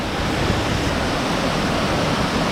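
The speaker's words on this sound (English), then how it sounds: "That is a wicked, wicked waterfall." A tall waterfall on Palau Island pours with a steady, dense, close roar of falling water, loud and unbroken, with no voices.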